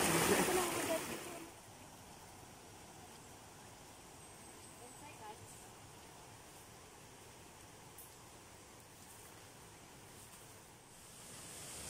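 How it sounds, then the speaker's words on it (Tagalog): Water gushes out from between rocks at Torres Falls, a steady rushing wash that runs unbroken for the whole stretch, moderately near, with a brief louder gust at the start. "May lumalabas na tubig."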